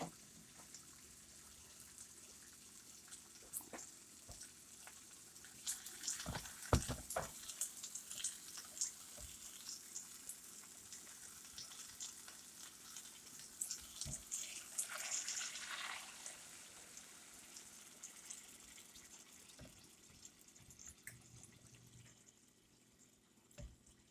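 Chicken broth pours steadily into a pot, a gurgling splashy stream that swells in the middle and tapers off, with faint clinks along the way.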